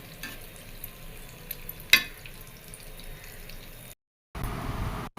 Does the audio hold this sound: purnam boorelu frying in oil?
yes